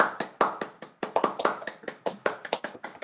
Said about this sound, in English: let's all give a big round of applause to all of our artists that created